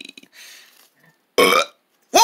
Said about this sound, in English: That was my cheeseburger belch.